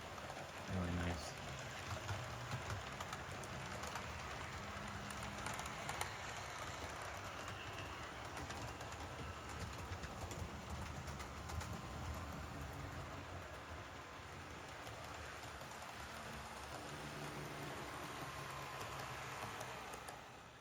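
Three HO scale Walthers diesel model locomotives run on a track, giving a faint, continuous whirring rumble with light rail clicking that lasts throughout.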